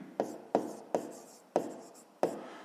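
A pen writes on paper during a fifth-grade math exercise, giving five sharp scratchy strokes, each starting with a crisp attack and fading quickly, close and clear with no talk.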